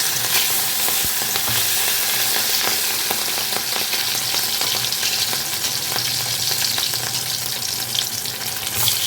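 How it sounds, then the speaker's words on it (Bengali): Pieces of catla fish fry in hot white oil in a wok, giving a loud, continuous crackling sizzle with scattered pops throughout. No one speaks. "এখন আমি মাছগুলোকে ভেজে নেবো"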